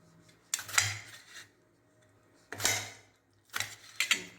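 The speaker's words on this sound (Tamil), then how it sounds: "இப்போ தக்காளி இந்த மாதிரி கட் பண்ணி உள்ளே சேர்த்திக்கலாம்." Knife cutting tomatoes on a board for a drumstick sambar in a home kitchen, three separate bursts of slicing and chopping, close and fairly quiet, with short gaps between them and no talking.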